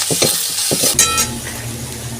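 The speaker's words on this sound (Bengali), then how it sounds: "তো মশলাটা আমার ভাজা হয়ে গেছে" Spices frying in a pan for a Kolkata street-style potato chop, with garlic, chilli and turmeric powder: brisk stirring scrapes and clinks over a steady close sizzle, no talk.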